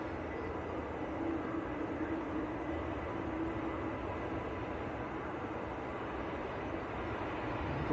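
A KLM Boeing 737-700 on its takeoff roll at Manchester Airport, bound for Amsterdam, gives a faint, distant, steady jet roar that hangs as a low broadband rumble throughout.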